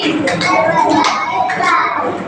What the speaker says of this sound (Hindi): क्लैपिंग करके जोर से ताली बजाओ, आवाज आनी चाहिए सबकी